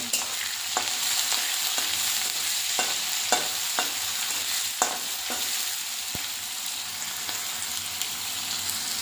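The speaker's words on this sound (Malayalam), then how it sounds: "അരിഞ്ഞു വെച്ച എല്ലാ സാധനങ്ങളും നമ്മൾ മൊത്തമായി ഇതിലേക്ക് ഇടണം നന്നായി ഇതിളക്കൊന്ന്" Chopped ginger, curry leaves and other ingredients are stirred in a hot pan for poha upma. The sizzle is continuous, and a spoon scrapes the pan in sharp, irregular strokes throughout.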